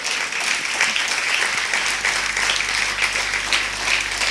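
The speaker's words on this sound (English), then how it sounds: "Please give me a big round of applause for Dr." Sustained audience applause at a lecture on modern life and spirituality in Nagpur, dense and steady throughout, loud and close, with no speech over it.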